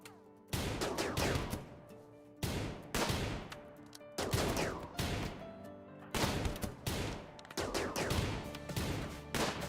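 Bolt action rifle gunfire in RimWorld, a string of sharp loud shots with echoing tails, bursting in several clusters across the stretch with no talk.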